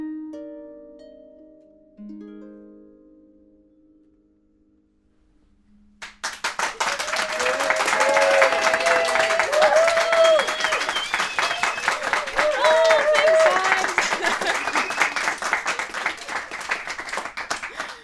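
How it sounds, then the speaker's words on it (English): Studio audience at a live pedal harp concert breaks into sustained clapping and cheering after a few fading harp notes and a short silence, loud dense applause that continues to the end. "Oh, thank you so much for all the clapping."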